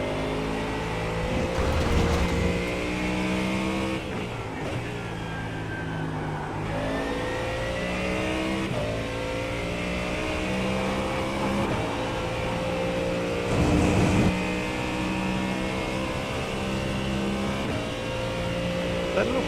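A Mustang GT race car in iRacing GT endurance racing roars through repeated gear shifts and revs, its harmonic engine tone rising and falling loudly and continuously, with occasional talk over it.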